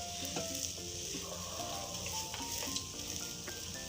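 Vegetable and egg parathas fry in a pan with a dense, close sizzle and crackle, joined by faint tonal background notes and occasional sharper pops.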